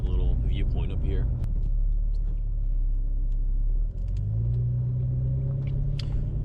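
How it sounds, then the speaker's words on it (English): A Jeep Cherokee XJ drives up a gravel road toward a viewpoint, its engine a steady loud low rumble with road noise throughout, the pitch rising partway through, and a voice speaking over it at the start. "I'll show you guys how this Jeep handles on the gravel road leading up to the little viewpoint up here"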